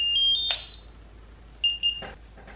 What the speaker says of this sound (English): once you hear that double beep, the tool is completely heated and ready to use